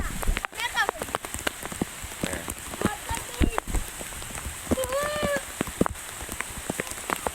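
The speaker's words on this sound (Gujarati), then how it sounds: "આવ્યો આવ્યો વરસાદ" Steady rain falls in a broad hiss with scattered drops hitting nearby surfaces, while voices and shouts break in now and then over the downpour.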